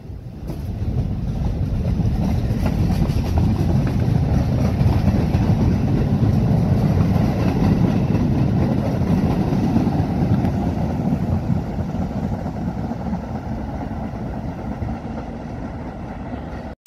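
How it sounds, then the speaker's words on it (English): An R44 Staten Island Railway train rumbles in, a loud continuous roar building and holding, then easing slightly, with wind noise and no talking. "Here comes the train. R44, only thing that runs here."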